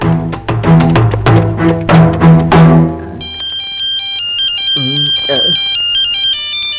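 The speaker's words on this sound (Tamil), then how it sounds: "இந்த நேரத்துல ஐஸ் வண்டிக்காரன் மணி அடிக்கிறான்" An ice cream vendor's cart sounds its bell as a repeating electronic chime melody, high and tinkling. It starts after a few seconds of loud talking and continues steadily, with a brief voice over it.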